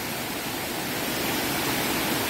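Tat Sae waterfall near Luang Prabang, Laos, gives off a steady, dense rushing roar of falling water, broad and unbroken, with no voices.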